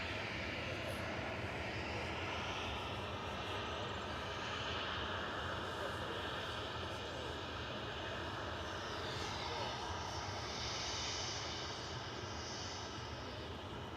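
Jet engines of a Ryanair Boeing 737-800 departing Manchester Airport give a sustained, even roar with a high whining layer, heard at a moderate distance and fairly faint, steady throughout with no talk.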